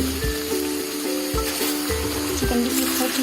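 Chicken for dum biryani cooks in a covered pan, making a continuous sizzle broken by a few dull knocks and light clinks.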